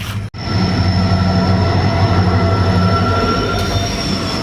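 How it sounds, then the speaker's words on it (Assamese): A train pulls into a station and comes to a halt, its wheels and carriages rumbling loud and close with steady clatter and a high wheel squeal running throughout. "এইফালে ট্ৰেইনখনো আহিছে আৰু এই ট্ৰেইনখন চাওকচোন ৰখাই দিলে"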